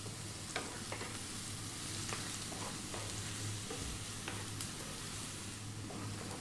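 Garlic sizzles and fries steadily in a pan over lively high heat, a continuous crackling hiss with occasional scrapes and clicks as it is stirred.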